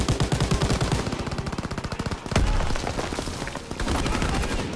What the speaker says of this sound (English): They fire on the infantry by the tank.